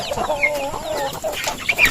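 Free-range chickens cluck and chatter close by on a farm, with several overlapping birds making short, irregular calls.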